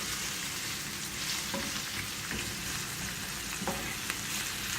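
Onions and garlic sizzling steadily in a pan, a continuous close frying hiss with a few soft stirring clicks, no talk.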